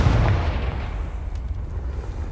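The Confringo blasting spell in Hogwarts Legacy sets off a loud, deep explosive boom right at the start, then a rumbling tail that slowly fades.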